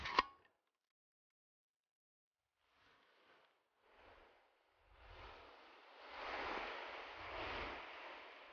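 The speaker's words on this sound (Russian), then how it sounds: "Здесь волны поднимают меньшее количество песка" Soft sea waves roll onto a shore on the Kerch Peninsula, faint surging washes that build and recede in slow swells after a brief tap and a moment of near silence.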